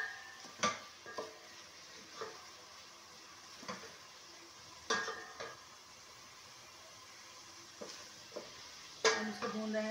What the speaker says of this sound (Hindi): हम इसको भून रहे हैं मसाले को, प्याज, लाल मिर्च, हल्दी, नमक और टमाटर के साथ हम इसको भून रहे हैं मसाला।